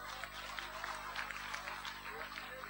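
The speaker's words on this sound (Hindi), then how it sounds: "सबकी ओर से जोरदार तालियां।" Applause from an audience at a Bharat Swabhiman gathering in Jharkhand: quiet, scattered clapping heard at a distance over a steady low hum, rising slightly in the middle.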